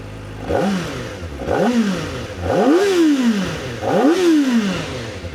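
A 2025 Kawasaki ZX-4RR motorcycle engine started and revved, four sharp rising-and-falling revs in quick succession, each a loud high-pitched bark that peaks and drops back to idle, heard close up.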